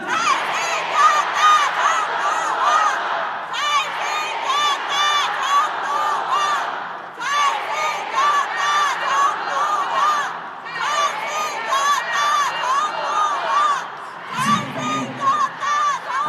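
A large crowd chants a short phrase loudly in unison, repeating it in bursts with brief pauses between rounds.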